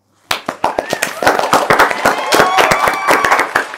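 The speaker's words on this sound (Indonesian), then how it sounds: "Kenapa tepuk tangan ya?" Studio applause, sharp close hand claps that start sparse and build into a quick, dense burst, with voices talking over them.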